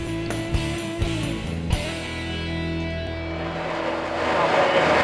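Alfa Romeo-powered Ralt RT30 Formula 3 two-litre single-seater at a Shelsley Walsh hillclimb, its engine holding a loud, steady high-pitched drone close by, with a few sharp shifts and a swelling roar toward the end.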